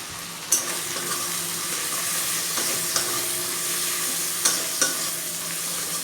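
Spices with salt, cumin powder, turmeric and ginger paste being stirred in a hot pan for a pointed gourd and prawn curry, a continuous sizzle broken by a few sharp spoon-against-pan clinks.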